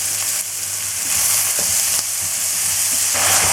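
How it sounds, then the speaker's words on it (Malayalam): Onion, ginger, garlic, coconut and curry leaves sautéing in hot oil for beef peralan, a dense, even sizzle close up with faint scraping as they are stirred. "ഇഞ്ചി, വെളുത്തുള്ളി, സവോള, കറിവേപ്പില ഒരു 3 മിനിറ്റ് വഴറ്റി കൊടുക്കാം."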